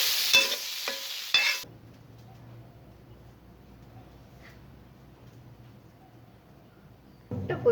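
Prawns fry in a pan for an egg-and-prawn omelette, with a loud crackling sizzle and stirring at the start. A long, quiet lull follows, and the sizzle returns briefly at the end.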